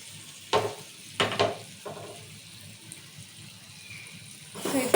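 Paneer pieces fry in a pan under a quiet, steady sizzle, broken by a few sharp scrapes and clatters as they are turned, close by with no talking.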